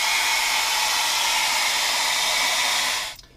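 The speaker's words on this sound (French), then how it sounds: "Une grosse étape de séchage qu'on peut accélérer à l'aide d'un sèche-cheveux à distance très raisonnable." A hair dryer blows continuously at close range to dry a spray-painted stencil, a loud steady airy whoosh that cuts off abruptly just before the end.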